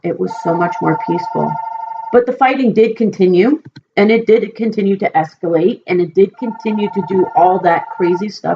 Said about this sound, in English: Excuse my phone from ringing